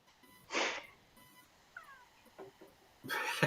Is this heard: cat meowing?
yes